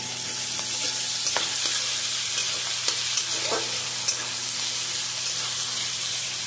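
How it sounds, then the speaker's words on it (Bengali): Ginger-garlic paste fries in oil in a pan for a dish of chili chicken, giving a constant dense sizzle with a few sharp pops and clicks, close and steady throughout. "এবার এর মধ্যে আগে থেকে বেটে রাখা আদা রসুনের পেস্টটা দিয়ে দিলাম"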